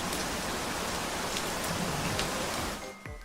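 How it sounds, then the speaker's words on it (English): Steady rain sound effect from an ASMR setup, a soft continuous patter and hiss running evenly in the background with no voices. "Oh, I also have the rain still from yesterday."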